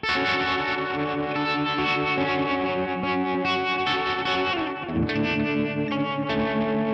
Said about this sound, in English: So I'm going to try some tremolo sounds.